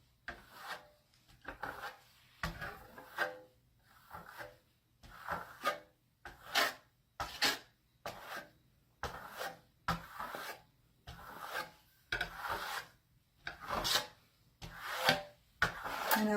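Venetian plaster is smoothed over a stencil with repeated rasping, rubbing strokes, about a dozen short scrapes in a steady back-and-forth rhythm, close and fairly quiet with brief pauses between them.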